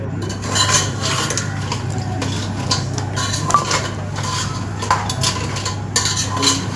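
Jungle crabs being stirred into a ground spice masala in a pot, cooked in a traditional tribal-style curry, giving steady metallic scraping and clinking of a utensil against the pot with no talk.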